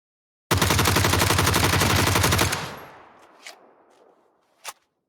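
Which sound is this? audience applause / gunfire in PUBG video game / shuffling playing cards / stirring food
gunfire in PUBG video game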